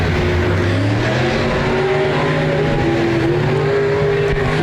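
Stock cars race at Park Jefferson Speedway during a heat race, engines roaring steadily and loud as several cars rev and drone together with shifting pitch, no pause in the noise.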